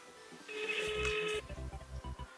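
A phone rings with an incoming call, one bright electronic ring burst lasting about a second, followed by low rustling and handling noise as the ring cuts off.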